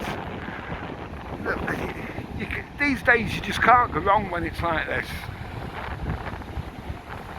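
Steady wind rumble buffets the microphone outdoors on the Blackpool seafront, with someone talking over it in the middle.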